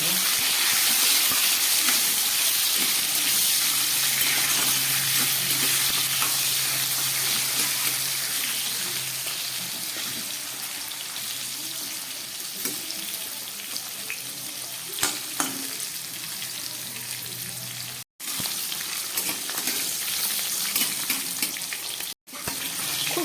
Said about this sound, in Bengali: আলু আর পটলটাকে আমি একটু ভালো করে এই তেলের মধ্যে ভেজে নেব